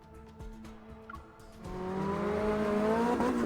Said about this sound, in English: Instead of slowing down, Silas steps on the gas.